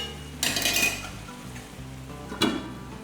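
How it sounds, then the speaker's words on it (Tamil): Eggplant sautés in a pan with tomato and onion, giving a soft steady sizzle broken by two sharp bursts of stirring or scraping against the pan. "இதில் இந்த தக்காளி வெங்காயத்துலேயே நல்லா வதங்கட்டும்"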